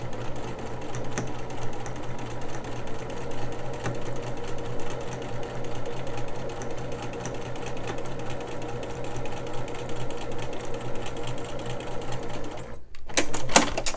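A sewing machine stitches quilt block seams in a long, fast, even run of needle clatter, close and steady, with a brief pause near the end before it resumes.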